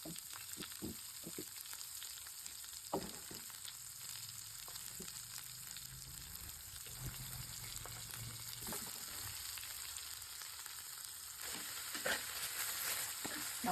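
Onions and green chillies fry in coconut oil, a quiet continuous sizzle with a few soft stirring clicks scattered through.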